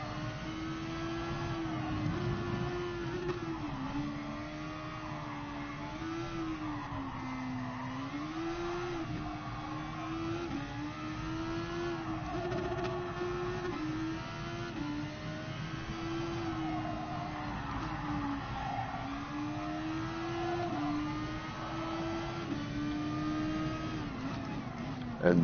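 A race car engine in GT Sport at the Autopolis circuit drones steadily, its pitch wavering up and down through shifts and corners over a long stretch, with a voice talking on top.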